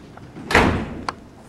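A stage door slams shut in a high school theater production of Noises Off, a single sharp, loud bang with a brief rattle, followed by a smaller knock a half second later.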